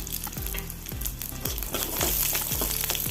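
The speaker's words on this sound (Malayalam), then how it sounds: "ഗ്യാസ് ഓൺ ചെയ്ത് കടായി വെച്ച് ഒരു ടേബിൾ സ്പൂൺ വെളിച്ചെണ്ണ വെച്ച് ഒരു ചോള വെളുത്തുള്ളി പൊളിച്ചത് ചേർത്ത് കൊടുത്ത്" A tablespoon of coconut oil sizzles loudly with peeled garlic cloves in a kadai on a gas stove. A spoon scrapes the pan in a regular rhythm roughly twice a second, and the frying keeps a steady hiss underneath. No one speaks.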